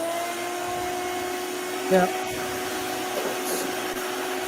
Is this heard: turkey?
no